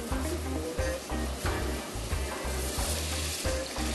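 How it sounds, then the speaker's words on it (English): Apples cooking in butter and caramel in a pan, sizzling loudly and close with a rhythmic series of scraping stirs roughly every half second, no talking. "add my apples. A bit of butter first."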